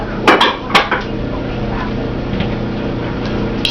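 A saucepan and kitchen utensils clank and clatter in a couple of sharp knocks early on, then give way to a steady low kitchen hum while sweet potato pie is being prepared.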